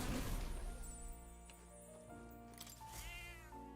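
A cat in Metaphor: ReFantazio meows while being petted, a drawn-out plaintive meow and a rising mew heard over background game music, with no talking.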